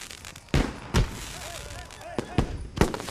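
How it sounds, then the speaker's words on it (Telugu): Firecrackers burst in sharp, loud cracks, about five separate pops spaced irregularly over a few seconds, with background noise and faint tonal sounds between them. "ఏంటయ్యా ఈ టపాసులు ఎక్కడ కొన్నారేంటి?"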